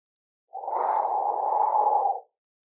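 A long, steady breathy exhale during a prenatal deep core exercise, a single smooth breath lasting under two seconds, close and soft with no talking.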